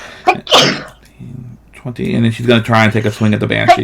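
A single sharp sneeze from a player at a Dungeons & Dragons tabletop session, close and loud, followed by people talking.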